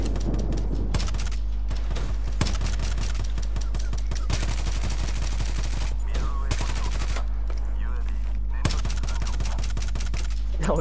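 Dense, rapid bursts of video game gunfire fill the whole stretch, with sharper single shots standing out over a steady low rumble.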